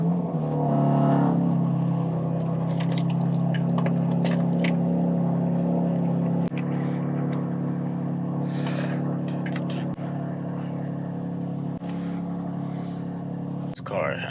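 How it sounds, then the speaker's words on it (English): A BMW M3 settles into a long cold-start idle, a steady low engine drone holding throughout with a brief louder swell near the start and a few faint clicks, while someone talks over it. "This car has like the longest cold start."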